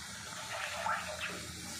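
A milk and water mixture is poured into semolina, making a soft, steady liquid pour with faint gurgling for a brief moment, fairly quiet and with no talking.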